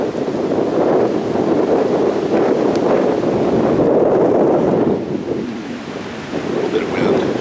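Strong wind at the Point Park overlook above Chattanooga, a loud continuous roar buffeting the microphone for several seconds, easing briefly before gusting again.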